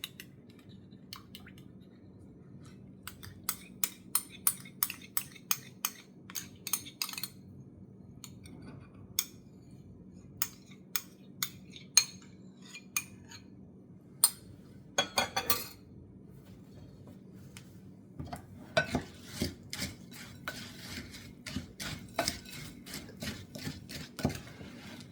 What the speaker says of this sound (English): we're going to mix that with 3/4 of a cup of melted butter